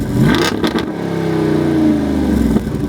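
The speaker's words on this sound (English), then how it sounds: "sounds rather incredible while doing so, thanks to the included push-button active exhaust" A 2024 Jeep Wrangler JL 392 Rubicon Final Edition V8 revs hard through its push-button active exhaust, with sharp throttle blips followed by a sustained rising engine roar, close and loud.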